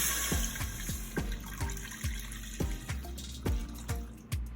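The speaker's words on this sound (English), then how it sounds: "Now we're gonna add 3 cups of water or stock." Water poured from a container into a butter and flour roux for chicken pot pie, heard as a steady run of close, rhythmic glugging pulses.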